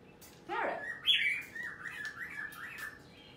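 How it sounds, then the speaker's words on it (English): Amazon double yellow-headed parrot calling indoors, a sequence of loud squawks and chirpy whistles rising and falling, close by and alone without talk. "my Amazon double yellow head parrot"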